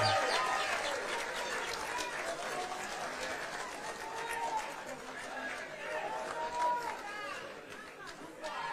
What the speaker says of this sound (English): Another round of applause for Baba wa kila mtu